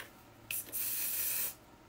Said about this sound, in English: I'm going to spray it with the On Till Dawn setting spray.